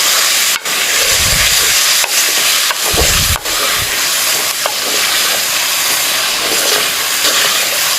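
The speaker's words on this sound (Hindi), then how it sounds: "अब हम इनको अच्छी तरह फ्राई करना है।" Ginger garlic paste fries for chicken jalfrezi in a hot pan, a loud, steady sizzling hiss throughout, broken by a few scraping stirs of a spoon and light knocks against the pan.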